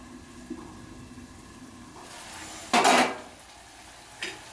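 Metal lid lifted off a pot of chicken gravy simmering on the stove, a single bright clatter with a brief scrape and a small clink after it, over low kitchen background.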